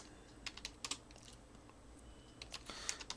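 Rapid typing on a computer keyboard while entering a MySQL rename table command, with clusters of quick key clicks separated by short pauses, close and fairly quiet with no talking.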